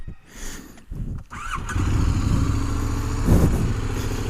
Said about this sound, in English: Now I'm going to turn on the bike.